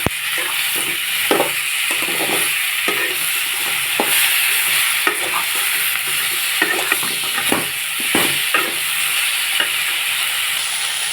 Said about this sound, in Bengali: দিয়ে দেবো কেটে রাখা আলু আর কাঁচা টমেটো সব কিছু ভালো করে কষে নেব